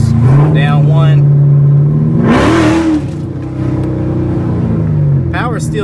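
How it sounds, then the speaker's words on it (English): A car engine blipped once at the throttle while a lingering drivability fault persists, a rising rev that climbs and falls back to idle amid steady engine hum, with someone talking over it. "let's try to hit a blip of the throttle"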